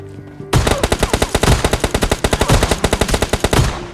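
Rapid automatic gunfire in the mobile shooter PUBG Mobile Lite: a loud, sustained burst of about two dozen evenly spaced shots over roughly three seconds, beginning abruptly after a brief quiet lead-in.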